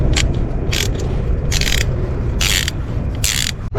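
Socket ratchet clicking in four quick bursts while loosening the thermostat housing bolts on a 2018 car with a radiator fluid leak, close and crisp over a steady low hum of background noise.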